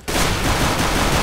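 Gunfire in Counter-Strike: Global Offensive Arms Race mode, a sudden loud burst of rapid shots starting abruptly and rattling on continuously for about a second.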